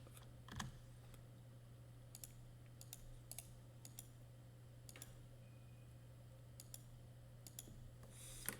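Sharp mouse clicks and bursts of keyboard typing at a computer running CAD software while drawing a fillet, crisp and close over a steady low electrical hum, scattered irregularly with quiet gaps between.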